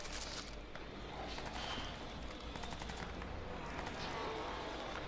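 Futuristic weapons firing in Crysis 2, rapid bursts of automatic gunfire and sharp shots layered over a dense, constant rumble of combat, loud and unbroken for several seconds.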